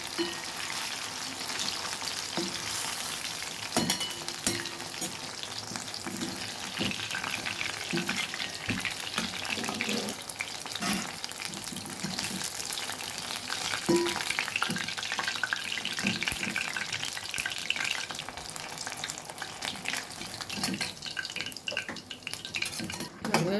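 Continuous crackling sizzle of Chicken 65 deep-frying in hot oil, with occasional clinks of utensils, close and steady throughout, no speech.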